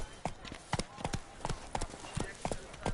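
Roach, the horse in The Witcher video game, gallops with a steady, rhythmic clip-clop of hooves, the beats close and fairly loud throughout.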